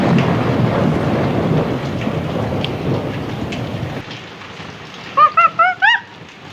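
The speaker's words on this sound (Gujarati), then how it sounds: "ગામમાં હજી પાછો વરસાદ ચાલુ થઈ ગયો છે." Rain falls steadily in a village during a heavy monsoon downpour, a broad wash of noise for about four seconds that then thins out, followed by a quick burst of high chirping sounds near the end.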